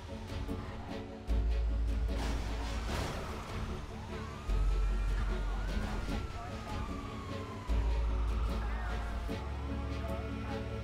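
Police car sirens wail in the GTA 5 video game during a chase, rising and falling sweeps that continue throughout over a loud, steady engine and traffic rumble.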